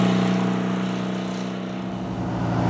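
A Porsche 356 Speedster replica with a 1600 engine of under 100 horsepower drones steadily while driving, a continuous low buzzing engine note with no talk over it.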